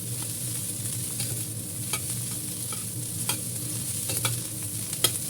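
Fried rice with carrot and egg sizzles steadily in a pan while a utensil stirs and scrapes, giving intermittent sharp clicks over a continuous hiss, close by and with no talking.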